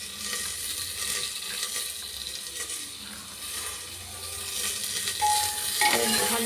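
Carrots, tomatoes, ginger and garlic are stirred in a pot for a kids' carrot and tomato soup, with steady scraping and a soft sizzle running through a continuous, moderately loud wash of kitchen noise.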